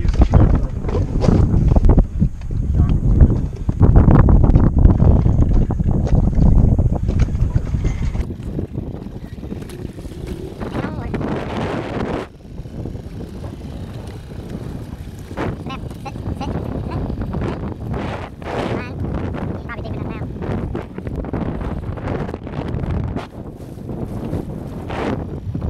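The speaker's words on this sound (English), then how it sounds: "Motor running." A boat motor runs on an outing at Pelican Bay, a loud, steady rumble blended with heavy wind buffeting the microphone. It eases somewhat after the first few seconds, and voices talk intermittently over it.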